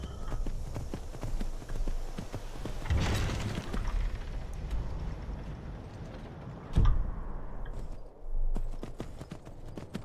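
Horse hooves clip-clopping in the video game Skyrim, a steady rhythmic trot with mechanical creaks and a couple of heavier thuds, fairly close and with little talk over it.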